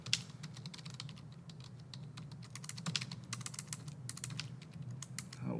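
Fingers tap quickly on a computer keyboard in a quiet room. The clicks come close and dense in an uneven, continuous rhythm, with no talking.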